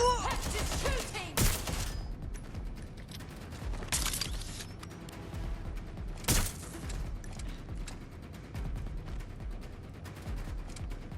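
Gunfire in Watch Dogs: Legion, Resistance Mode, with sharp shots and bursts spread through a busy game scene, several loud cracks standing out over a continuous layer of game noise and voices.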